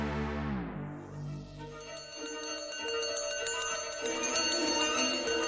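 A bell tone rings out and fades, then bright overlapping metallic chimes build and ring on together, sustained and fairly loud.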